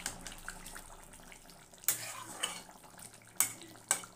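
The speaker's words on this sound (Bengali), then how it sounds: "তার জন্য আমি এখানে একটু জল অ্যাড করে দিলাম।" Water is poured into drying spice masala in a fish curry pan, giving a soft running splash followed by a few sharp, close sizzling and clattering bursts.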